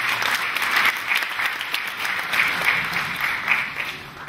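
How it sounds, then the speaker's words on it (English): Sustained applause from an audience at a business event in Ghana, a steady wash of many hands clapping at moderate volume, continuous with no talk over it. "it does deserve a second round of applause"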